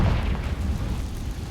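A Confringo fire-blast spell from Hogwarts Legacy erupts in a heavy, rumbling burst, a deep sustained boom that rolls on for over a second without talk.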